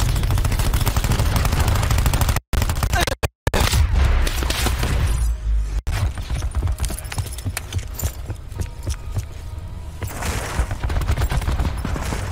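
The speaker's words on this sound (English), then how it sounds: "Cluster grenade going out." Cluster grenade blasts in Call of Duty Black Ops 4 rip through a dense, loud barrage of gunfire and explosions, with brief sudden dropouts before the heavy rumbling chaos resumes.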